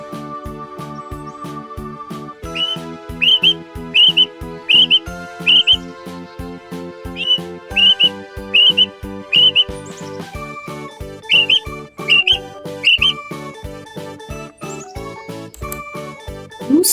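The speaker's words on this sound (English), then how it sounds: "Quail." A quail calls in short, bright chirped phrases repeated in clusters over a tinkling musical backing, clear and close throughout.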